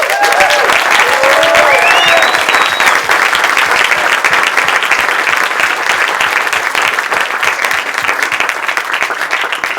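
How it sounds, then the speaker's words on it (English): Loud, dense applause from an audience at a community event, sustained across the whole stretch with a few whoops and cheers rising over the clapping early on. "So I want you to give yourselves a big round of applause."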